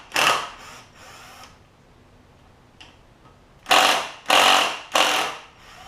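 Power driver with a T25 bit spinning out the ignition stator screws on a Kohler Courage engine from a Cub Cadet LT1045, a close, loud whir followed by three quick bursts of whine, with quieter pauses between.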